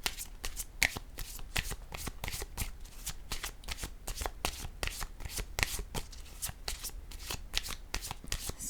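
Pink tarot cards are shuffled by hand in a quick run of crisp riffling flicks and slaps. The cards are close and fairly quiet, with no talking.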